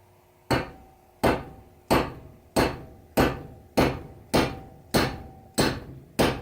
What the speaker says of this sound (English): with my ball peen hammer, just to try to round those corners out to kind of rivet, essentially riveting the selector lever in place.